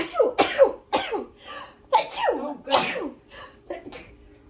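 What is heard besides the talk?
sneeze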